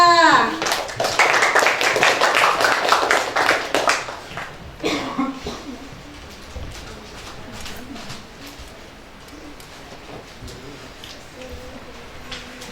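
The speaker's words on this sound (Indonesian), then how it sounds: "kasih aplaus buat temannya" Classroom students burst into loud, dense applause for a group of classmates for about four seconds, then it tapers off and a teacher's voice carries on over quieter room murmur.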